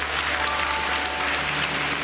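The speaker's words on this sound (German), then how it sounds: "Gebt doch der Andrea schnell einen Applaus." Studio audience at the grand finale of a Swiss rural women's cooking competition gives a round of applause, even and sustained clapping from a sizeable crowd with no talk on top.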